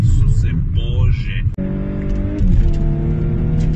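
An Audi S4 sliding sideways on an icy surface, its engine loud and close with a steady droning roar that shifts pitch as revs change, briefly dipping mid-clip; a voice can be heard faintly under the engine.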